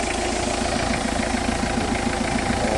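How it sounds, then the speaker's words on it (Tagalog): A Mitsubishi L300 engine idling after ten minutes of running, heard close up as a steady, even mechanical rumble with a regular pulsing beat and no talk over it. "dahil sa naka 10 minutes nang naka-start itong makina"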